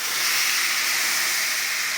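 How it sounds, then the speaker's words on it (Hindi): Steady, dense sizzling hiss of tempering spices crackling in hot oil for dal, loud and close, continuing without pause. "देखो बहुत मज़े का तड़का, इसकी आवाज़ बहुत अच्छी है।"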